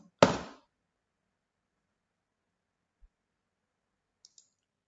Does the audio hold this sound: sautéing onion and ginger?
no